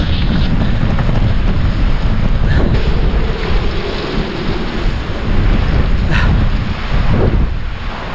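Strong wind buffets the microphone beside a lake during a gravel bike ride, a loud, constant low roar with gusty rumbling and a few brief knocks, no talk.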